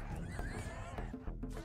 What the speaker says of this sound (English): Horses, where are you going?